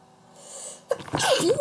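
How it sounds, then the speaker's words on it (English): One person sneezes indoors: a quiet rising inhale builds, then a sharp, loud burst breaks out with a trailing vocal tail, close to the microphone. "Sorry about that sneeze, you guys."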